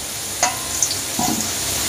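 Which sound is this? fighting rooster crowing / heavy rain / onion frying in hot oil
onion frying in hot oil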